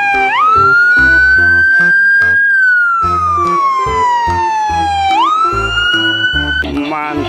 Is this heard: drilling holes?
no